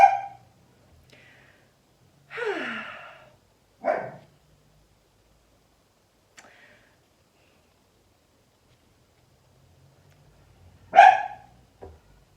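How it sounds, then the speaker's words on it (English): A dog in a country village barks in a few separate bursts, some sharp and some drawn out, fairly close, with long quiet gaps between them. "There's another dog in the village that keeps on barking"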